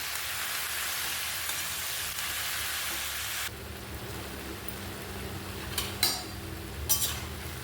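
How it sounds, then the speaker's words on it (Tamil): Tomatoes sautéing in a pan for tomato pickle, a steady broad sizzling hiss that drops to a softer crackle partway through, with a few brief utensil scrapes near the end. "இப்போ இந்த தக்காளியை வதக்கி விட்டுக்கலாம்"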